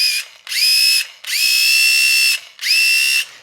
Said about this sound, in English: this was the sound of a blaster.